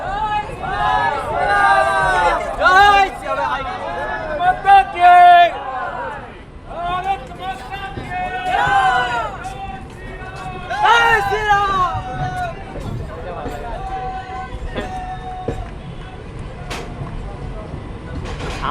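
A dense crowd fills a railway platform at Masagram Junction as a train comes in, with loud overlapping voices and shouts over a low rail rumble.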